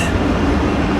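A train rumbles by close and loud, a heavy rolling roar of rail noise filling the brief moment.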